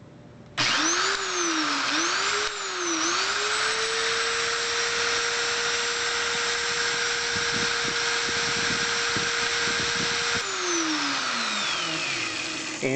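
A drill spins an HP 85 tape drive capstan while a hand file gently takes it down, giving a steady, loud, high whine that rises through a few speed changes, then holds and winds down near the end, with no talk.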